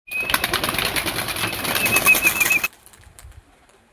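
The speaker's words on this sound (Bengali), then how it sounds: "আমরা এখন পায়রা ছেড়ে দিয়েছি অর্থাৎ উড়ানোর জন্য ছেড়ে দিয়েছি" A flock of pigeons is released from a loft, wings flapping in a dense burst for about two and a half seconds before the sound cuts off, leaving only faint traces.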